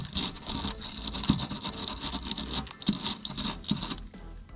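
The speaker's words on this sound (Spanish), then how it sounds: "vamos a darle un poquito más con el cepillo solo" A stiff brush scrubs suspension parts on a Nissan S14a, rapid continuous rasping strokes with a few harder knocks, close and steady without talk.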